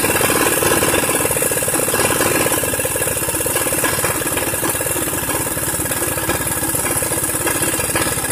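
A Honda Beat 100 cc scooter engine with an AT110 carburetor runs close and loud at idle, its steady rapid firing pulses holding an even chugging rhythm throughout with no talking.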